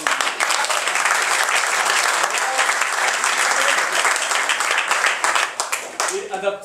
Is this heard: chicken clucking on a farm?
no